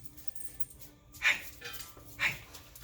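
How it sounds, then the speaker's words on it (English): A puppy gives two short, sharp yips or whimpers about a second apart, fairly close, over a quiet indoor background. "And here comes my puppy."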